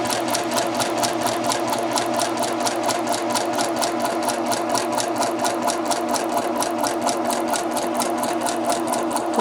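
A sewing machine stitches steadily out of a fabric corner, a loud, even, rapid mechanical whir with a regular needle pulse that runs unbroken throughout.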